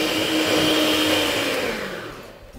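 An electric mixer whips egg whites for a layered cake, a loud, steady motor whir running close by and then easing off slightly toward the end. No talking.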